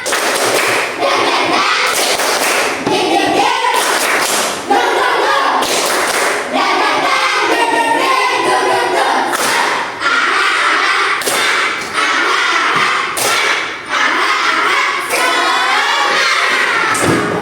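A class of fourth-grade schoolchildren claps together in a steady rhythm, loud and close, with regular accented beats and brief pauses between patterns, some voices mixed in.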